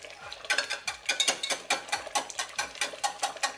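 Cooked pawpaw being mushed by hand in a pot with a kitchen utensil instead of a potato masher, giving repeated soft squelching strokes and light scraping against the pot in a steady rhythm, close and fairly quiet with no talk.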